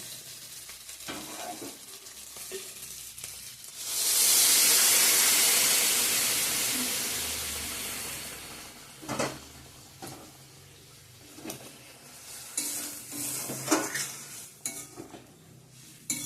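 Water poured into a pan of sautéed potatoes for chicken pakora prep bursts into a loud, sustained sizzle that gradually fades, followed by scattered scrapes and clinks of stirring.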